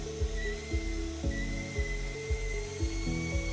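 A SITEK SRD motor shaft spins steadily with a Scotch-Brite pad pressed against it, producing a continuous whining, drill-like hum with faint hiss and repeated low thumps as pressure shifts.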